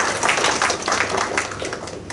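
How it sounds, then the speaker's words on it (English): An audience at a study-course session gives sustained applause, a dense patter of many hands clapping at steady loudness throughout. "I request everyone to join us in giving him a big round of applause"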